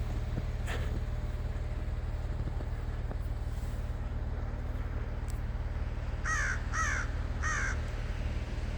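Three harsh black crow caws in quick succession, fairly close, after a stretch of low steady rumble and faint background noise.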